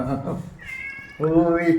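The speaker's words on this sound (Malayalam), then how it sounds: "പൂച്ച ഒന്ന് കരയുന്നുള്ളതാണ്" A cat meows twice up close, a short cry and then a longer, rising wail.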